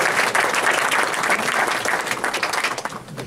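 Audience applause at a trading conference, a room full of people clapping steadily and close for a few seconds before tapering off at the end.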